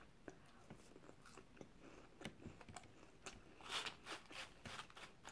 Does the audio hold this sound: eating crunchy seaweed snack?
yes